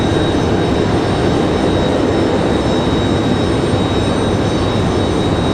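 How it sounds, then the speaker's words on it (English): An Embraer E175 regional jet passing at Raleigh-Durham International Airport, a loud, steady engine roar that fills the whole clip, with a faint high whine over it and no voices. "Gonna have that E175 pass the lower portion of your screen"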